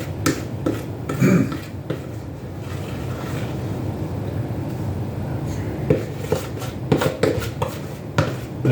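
A utensil scrapes and clicks against a pan while egg-free cornbread muffin mix is spread, giving irregular close taps and scuffs over a soft background.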